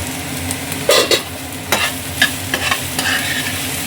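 Potatoes and capsicum frying in a pan for crispy chilli potato, with a spatula stirring them in a few scraping bursts over a steady close sizzle, no talking.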